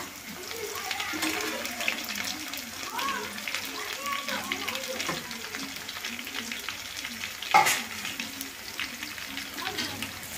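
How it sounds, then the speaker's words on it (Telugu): Onions and green chilies fry in plenty of oil for a village-style mutton curry, a steady moderate sizzle running throughout beneath a person talking, with one brief louder clatter. "తర్వాత పచ్చిమిరపకాయలు వేసి కొంచెం వేగిన తర్వాత"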